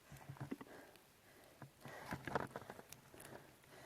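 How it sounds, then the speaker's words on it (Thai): Scattered patter of drops falling on leaves, irregular and light, with occasional louder taps close by and no voices. "ฝนลงละฝนลงละค่ะ"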